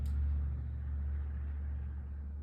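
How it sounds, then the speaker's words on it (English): A loud truck passes outside: a deep, steady engine rumble fills the whole stretch, strongest at the start and fading slightly, with no talking. "Sorry, a loud truck."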